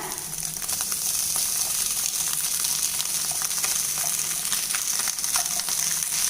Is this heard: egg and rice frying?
yes